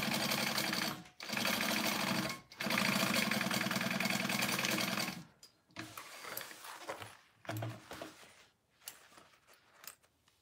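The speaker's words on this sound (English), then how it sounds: "So I sewed that shut along the top" A sewing machine stitches a crossbody bag in two loud, steady runs of rapid needle chatter broken by a short pause, followed by quieter intermittent handling sounds and fabric rustle.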